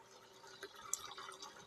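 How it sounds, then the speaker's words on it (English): Cold water runs from a tap into a container as it fills, a soft, steady trickle with a few faint drips, quiet and close, with no voices. "filling this up with cold water"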